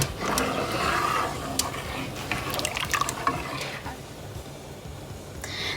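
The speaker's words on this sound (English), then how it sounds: "So I'm going to mix this really well, so the condensed milk gets easily dissolved in it." Condensed milk is stirred into sawaiyan, a sweet vermicelli dish, with soft wet sloshing and scattered clinks of a spoon, fairly quiet and with no one speaking.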